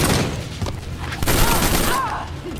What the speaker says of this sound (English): That's how I use the pistols.